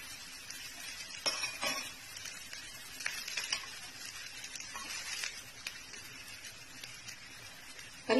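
An uttapam with vegetables and coriander sizzling on a griddle as oil is drizzled around it, a soft steady crackle with scattered utensil taps and scrapes, close and without talking.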